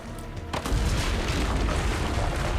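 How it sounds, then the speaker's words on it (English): Cannon fire from the ramparts in a 2010 Ubisoft video game demo, a heavy deep boom that bursts in and rolls on as a loud, sustained rumbling blast. "Use the cannons above the ramparts."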